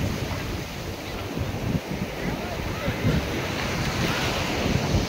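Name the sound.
Indian Ocean waves breaking at Puri Beach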